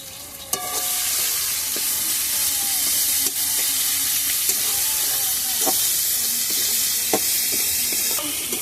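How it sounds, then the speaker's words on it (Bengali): Spice paste with ginger and cumin powder sizzles steadily in a pan over a wood-fired stove, a continuous frying hiss broken by occasional scrapes and clinks of stirring. "এবার মশলাটাকে ভালো করে কষিয়ে নেব।"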